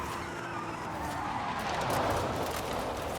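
A car's tires squeal in a sustained skid as the rear end slides out, a Hyundai Ioniq 5 N electric car in a Forza Horizon street race, with a steady loud screech and engine whine throughout.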